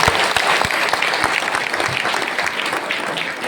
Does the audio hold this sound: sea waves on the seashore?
no